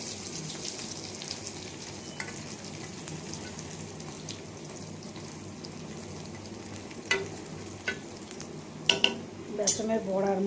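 Gram flour pakoras fry in a small amount of oil in a home kitchen, a soft steady sizzle heard up close, with scattered scrapes and clinks of a utensil toward the end.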